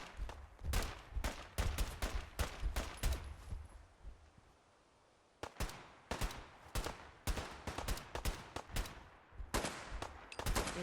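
Bursts of gunfire in the video game Fallout 4, a long run of sharp, loud shots in quick clusters that break off into a short lull, then resume in repeated volleys.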